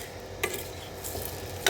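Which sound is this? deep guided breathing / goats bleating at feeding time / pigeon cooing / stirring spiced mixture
stirring spiced mixture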